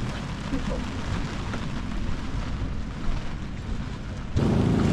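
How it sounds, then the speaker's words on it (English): Steady rain and gusting wind roar on a sailboat off the Isle of Mull, Scotland, as a constant broadband wash, swelling louder near the end as a stronger burst hits close by. "rain and wind"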